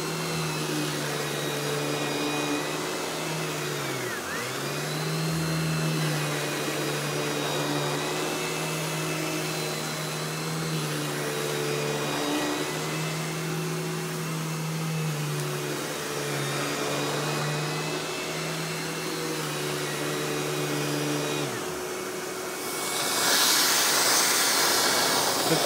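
A Royal Classic Power Team 4650 canister vacuum runs with a steady mid-pitched motor whine and airflow hiss, the tone dipping briefly twice as the suction changes, then a rush of air near the end.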